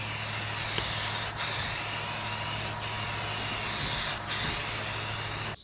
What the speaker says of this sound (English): Putting on the 3rd and final coat right now.